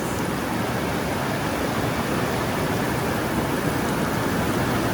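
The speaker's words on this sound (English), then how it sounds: "And this is a downpour." Steady, loud broadband hiss of a heavy downpour on a farmstead, water streaming down the road, constant throughout with no letup and no voices.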